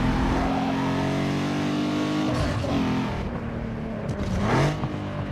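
Game engine sound of a Toyota Corolla in Need For Speed Underground 2, revving steadily loud with rising and falling pitch as it accelerates and shifts, a sustained near drone throughout with no talk.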